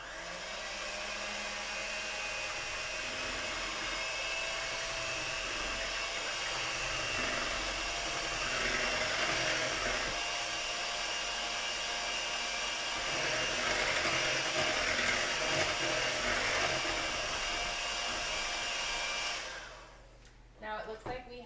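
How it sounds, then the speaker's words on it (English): Handheld electric mixer beating gluten-free pumpkin pie filling, a steady loud motor whir held for about twenty seconds, close up, then cut off with a few faint clatters at the end. "get your hand mixer ready and mix away"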